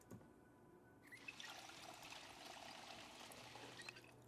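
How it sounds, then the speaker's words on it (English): Water pours steadily into a bottle in the video game Project Zomboid, a soft continuous trickle and splash that starts after a brief quiet moment and runs to the end. "Let us go fill up our water bottle."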